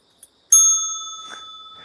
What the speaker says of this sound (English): I got this bell. Listen to this.